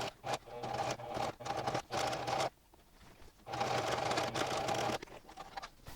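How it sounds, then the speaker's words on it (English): Sewing machine stitching a ruffled neck warmer, fast whirring bursts of needle chatter in several runs of about a second or more, separated by short pauses, close and clear. "So I usually sew on one side, I flip it over, and I sew the other side"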